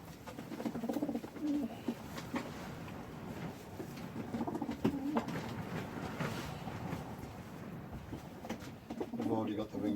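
Pigeons coo softly in a loft on an allotment, with several low, repeated calls at close range, heard under someone speaking throughout.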